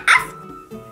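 A Chi Chi Love toy puppy gives one short, sharp, high electronic bark up close, followed by a quiet mechanical hum.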